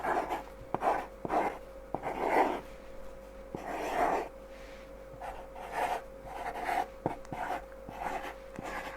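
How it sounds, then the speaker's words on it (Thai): A teacher writing on a board, with repeated short scratchy strokes and taps in irregular bursts over a faint constant hum, close and fairly quiet. "ขอครูเขียนก่อนนะคะ"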